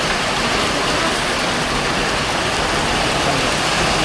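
Steady rain pours down during a stop on a road trip, a dense, even hiss filling the scene from start to finish with no voices.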